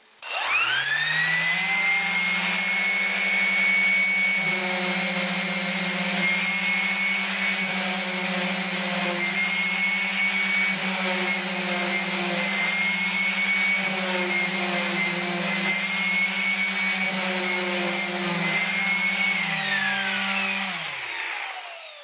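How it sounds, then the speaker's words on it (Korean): A Bosch GEX125-150AVE random orbital sander runs steadily on its own weight alone, a loud continuous whirring hum that holds for about twenty seconds and then winds down at the end. "제품의 무게로만 샌딩을 하도록 하겠습니다"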